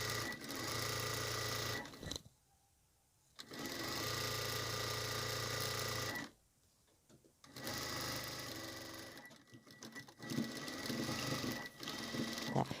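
A sewing machine runs in steady straight-stitch bursts along the waistband seam of a fabric apron, a close mechanical whir broken by three short pauses, with no one talking.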